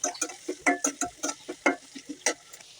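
Onion with cardamom and bay leaves fries in oil while a spoon stirs it in short, regular scrapes and taps, each stroke followed by a brief sizzle, close and moderately quiet.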